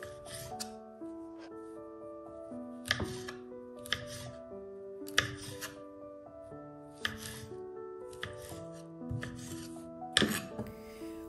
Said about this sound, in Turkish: Mandalina kabuklarını doğradım.